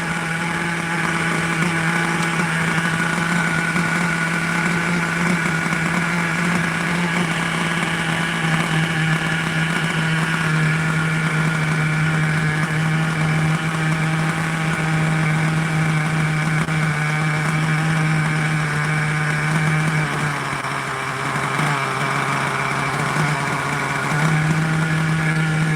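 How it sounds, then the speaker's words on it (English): A nitro RC car engine idles steadily and stably, a continuous buzzing drone close by with little change over the whole stretch and a slight dip in pitch near the end. "Such a stable engine."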